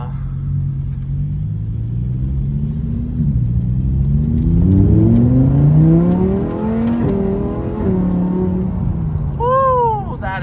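A supercar engine revs loudly and accelerates, its tone climbing and falling through several rising sweeps over a steady low rumble, close and continuous for about ten seconds.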